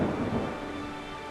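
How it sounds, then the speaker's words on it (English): Heavy rain hisses steadily with a low rumble of thunder underneath, fading slightly over a brief moment. "Rain pours down and lightning forks across the sky."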